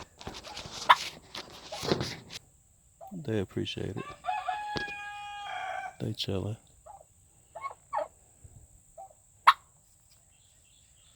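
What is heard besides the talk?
turkeys gobbling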